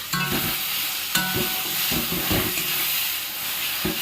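Spiced masala for mutton curry frying in oil in a pot, a loud steady sizzle and hiss with scraping stirs of a spoon every second or so.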